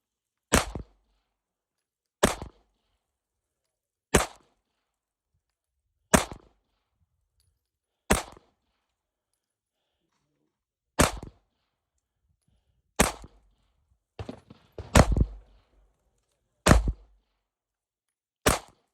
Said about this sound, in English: Victor running the Glock 43 with the Shield Arms 15 round magazine